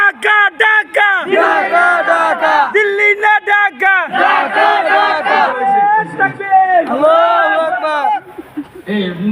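A large crowd at a madrasa gathering chants the takbir slogan Allahu Akbar in loud, rhythmic unison, several bursts of massed voices answering in turn and filling the space.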